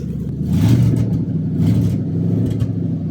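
A Police Interceptor engine revs loudly after its catalytic converters were stolen, giving a raw, rumbling, unmuffled roar that surges and dips in a few rising pulses, close and continuous with no talking.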